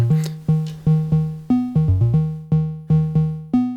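Synth bass notes from an Erica Synths Bassline DB-01 with a deep sub-oscillator layer, played in a steady repeating pattern with sharp attacks and decaying tails, no voices.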